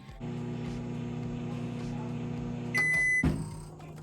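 A home microwave oven in America cooks alu posto, giving a steady low electric hum for several seconds, then a brief tonal beep near the end.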